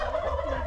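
Indigenous kienyeji chickens on an off-grid farm give a steady, close stretch of clucking and gobble-like calls over a low rumble.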